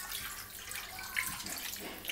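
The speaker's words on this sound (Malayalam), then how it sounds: "ഇനി നമുക്ക് ഇതിലേക്ക് ആവശ്യത്തിനുള്ള വെള്ളം ഒഴിച്ചു കൊടുക്കാം." Water poured into a pot of mutton, a faint running, splashing flow close by with a few small drips, no voices over it.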